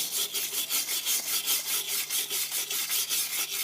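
Old gasket material is scraped off a Dana front axle on a 1998 Jeep Cherokee, a fast, steady back-and-forth rasping stroke repeated about a dozen times, close and fairly loud with no talk.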